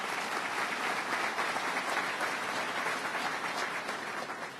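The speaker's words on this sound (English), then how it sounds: "Give her a round of applause." An audience at a Syracuse campaign event gives a round of applause, a steady, full wash of clapping from a large crowd that holds evenly before easing slightly at the end.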